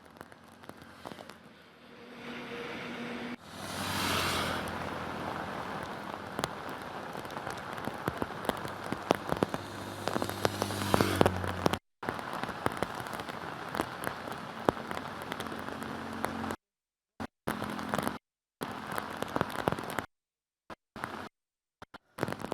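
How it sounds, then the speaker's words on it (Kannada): Heavy monsoon rain pours in Karwar, Uttara Kannada, a dense hissing downpour that swells loud after a quieter start, with patters and crackles of drops on surfaces, broken by several abrupt silent cuts near the end. "ಕಾರವಾರ ಭಾಗದಲ್ಲಿ ಜೋರು ಮಳೆಯಾಗ್ತಾ ಇದ್ದು"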